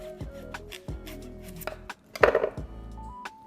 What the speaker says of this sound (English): So we're going to cut just a little bit off the bottom.